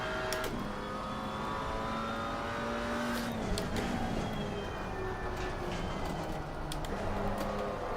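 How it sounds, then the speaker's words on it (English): In the Assetto Corsa Competizione racing game at Spa, a McLaren 570S holds a steady engine drone while another race car closes in and passes, its engine note rising and fading against the continuous hum. "Faster car coming up behind you."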